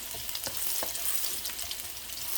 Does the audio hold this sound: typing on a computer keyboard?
no